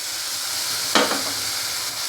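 Small-onion and green-chili chutney hits a hot pan with a sudden sizzling splash, then settles into a steady, moderate frying hiss.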